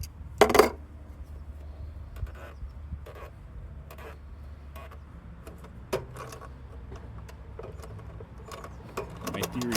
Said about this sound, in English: I'll just hold on to the back one while I tighten the front one